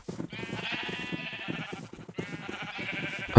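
Sheep bleat in a video game, a long wavering bleat followed by a second one after a short gap, fairly close and clear, with a sudden loud thump at the very end and no talking.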